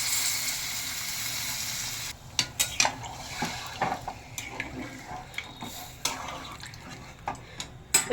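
Water and spice-paste liquid poured into a pan of vegetarian jackfruit curry: a steady hiss for about two seconds, then clinks of a spoon against the pot and soft stirring knocks, close and moderately loud, with no talking.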